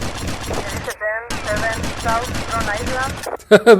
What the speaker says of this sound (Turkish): Suda dünya kadar mermi harcıyorum.